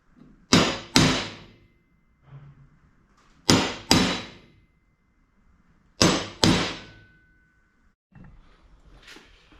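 Sharp metallic hammer strikes on a center punch against metal, in pairs, three double blows spaced a couple of seconds apart, each ringing briefly, close and loud with quiet between.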